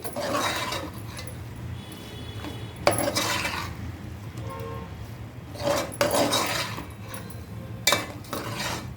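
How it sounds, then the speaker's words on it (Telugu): Jackfruit pieces for biryani are stirred and fried in a pan on a stove, with repeated scraping and clinking of a utensil against the pan in short bursts over a low background hum. "ముక్కలు వేసుకున్నాక రెండు నిమిషాలు స్టవ్ పెట్టుకుని వేపుకోవాలి ముక్కల్ని"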